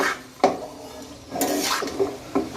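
Poha and vegetables stirred in a pan, with a few distinct spoon scrapes and clinks against the metal separated by soft shuffling of the flattened rice, close and moderately quiet.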